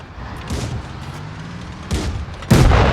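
Booming tank cannon shots go off in World of Tanks Blitz, a few heavy blasts at irregular intervals, the last one loud and close.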